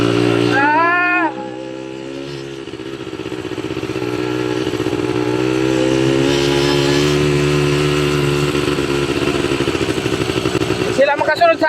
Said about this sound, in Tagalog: Sila makasunod sa ating motor. ATV motor.